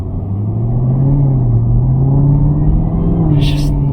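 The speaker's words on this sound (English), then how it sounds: "We're gonna go ahead and move one more time so you can hear the car." A 2022 Chevrolet Camaro ZL1 V8 rumbles while driving, a loud, steady low engine drone heard from inside the car, pitch drifting gently with throttle, followed by a short hiss near the end.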